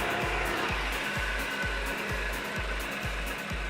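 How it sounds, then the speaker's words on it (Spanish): A homemade professional cotton candy machine motor drones steadily up close, a loud whirring hum with a regular pulsing beat repeating about twice per second, no voices. "No sé si alcanzan a notar ese ruido, bueno, el motor."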